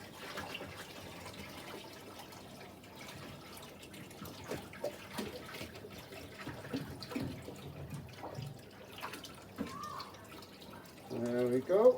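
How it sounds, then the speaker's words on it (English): Clean water pours and splashes into a school column aquarium holding tropical fish, a close trickling with drips and gurgles that swells toward the end, under occasional quiet talk. "So we're going to put this nice clean water in here"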